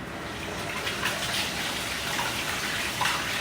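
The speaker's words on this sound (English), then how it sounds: "I'm gonna put in the fish to fry." Fish fries in hot garlic-infused oil in a pan, a steady loud sizzle and hiss that stays close and constant without talk.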